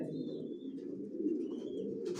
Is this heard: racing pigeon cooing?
yes